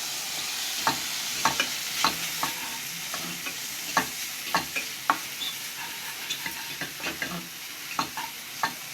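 Boiled keema stirred into frying masala for samosa stuffing: a close, steady run of sharp spoon scrapes against the pan, repeating every half second or so over a faint background sizzle, with no talking.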